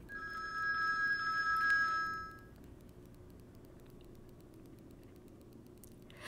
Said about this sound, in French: Excusez-moi, le téléphone